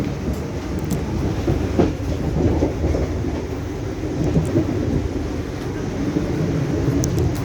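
A restored carriage of the KA Majapahit train rumbles steadily along the rails, a continuous low roar with faint rhythmic clacks and occasional squeaks, heard from inside the car.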